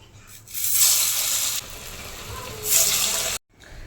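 Alasanda vada batter, made from black-eyed peas, drops into hot oil and fries with two loud bursts of bright, hissing sizzle. A quieter crackle fills the gaps, and the sound cuts off abruptly near the end.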